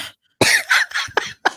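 A series of harsh, close coughs, about five bursts in quick succession after a brief pause, loud and raspy.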